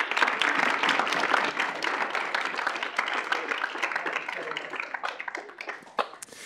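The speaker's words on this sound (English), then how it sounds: "if we could give them a round of applause" Applause from an audience, dense clapping that stays steady for several seconds and then thins into a few scattered claps near the end.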